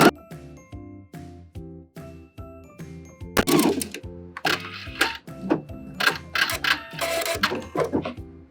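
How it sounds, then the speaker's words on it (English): A sewing machine stitches down the lining of a pair of panties. A rapid, even mechanical ticking runs at a steady rhythm with a few louder clattering bursts, close and alone. "Now we're going to sew down the other side."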